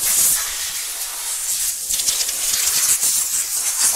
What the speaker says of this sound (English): I'll turn the blower down just a little bit.